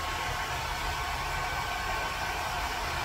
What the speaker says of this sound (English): So we're gonna try this dryer on her.